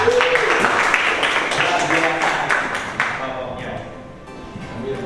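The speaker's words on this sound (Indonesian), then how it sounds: "Oke, tepuk tangan untuk kita semua." Group applause in a teachers' academic supervision coaching session, steady clapping from a room of participants that starts full and thins out toward the end, with voices mixed in.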